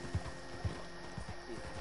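A horse's hooves clip-clop faintly at an unhurried walk over a steady low background hum in Red Dead Redemption 2.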